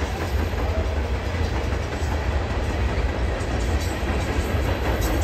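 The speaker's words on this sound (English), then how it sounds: "This is a big train." Long freight train of tank cars rolling past in Burlington, Ontario, a loud steady rumble with continuous rhythmic wheel clatter on the rails, close by and without talk.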